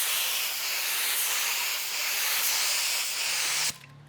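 A paint spray gun sprays a wide, even coat onto a vehicle, a loud steady hiss that holds for several seconds and then cuts off abruptly, leaving quiet room tone.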